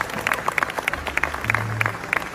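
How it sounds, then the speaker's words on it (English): An audience applauds for A.R. Rahman's son at a public gathering, steady clapping with scattered sharp claps over a low hum, with bright clap transients throughout. "So let's give him a big round of applause."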